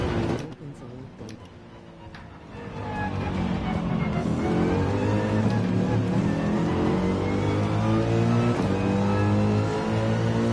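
A race car engine in Gran Turismo 7 at the Red Bull Ring climbs from a quiet start into a loud sustained rev, pitch rising and stepping through gear shifts, with faint talk early on.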